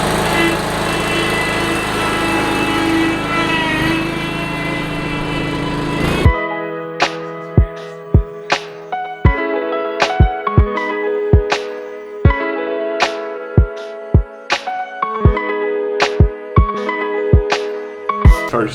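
A Hustler Super SF 72-inch stand-on lawn mower drones loudly as it cuts grass on a large estate, the steady engine lasting about six seconds before giving way to music with sharp, rhythmic hits.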